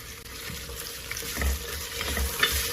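Onions sizzle and fry in a pan while mint leaves are added and stirred in for tomato bath, a steady close sizzle broken by scraping stir strokes, with no talking.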